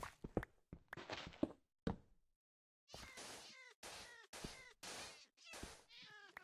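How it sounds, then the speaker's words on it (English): Cat in the Minecraft GTNH modpack meowing repeatedly: several clipped meows in a choppy, uneven rhythm, then a steady run of distinct meows with short pauses between, close and fairly loud with no talking. "That's another cat."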